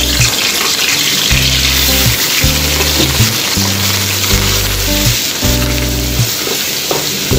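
Ginger garlic paste sizzles steadily in hot oil for a beef karahi, a loud, continuous frying crackle with intermittent low stirring or scraping thumps, no voices.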